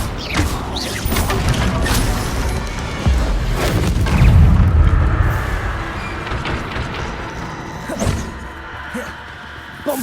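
Confringo blasting spell explosions in Hogwarts Legacy, a series of booming impacts and crashes mixed with game effects, with a heavy rumbling blast near the middle and smaller hits around it.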